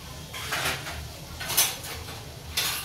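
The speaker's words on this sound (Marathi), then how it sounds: "भांड्याचा आवाज येत असेल तुम्हाला।" Steel utensils and pots clank and scrape in repeated bursts while dishes are washed in a home kitchen, fairly close, with a constant background hum.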